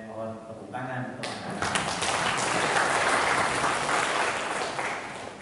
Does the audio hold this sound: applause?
yes